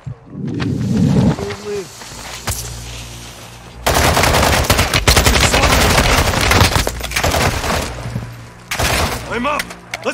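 Enemy gunfire in Call of Duty Modern Warfare 2 DMZ, loud sustained automatic bursts with scattered single shots, mixed with shouting voices and other battle noise.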